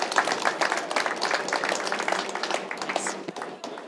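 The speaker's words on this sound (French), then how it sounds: "On peut les applaudir." Audience applause at a round-table event honouring top apprentices, moderately loud and steady for about four seconds, a dense patter of many hands that tapers slightly at the end.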